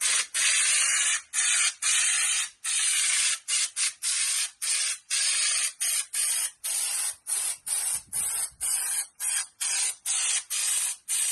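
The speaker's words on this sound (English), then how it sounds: "Doing my last bit of spray here" A spray gun sprays MIPA Protector protective coating in repeated hissing bursts of varying length, separated by short pauses, steady and fairly close.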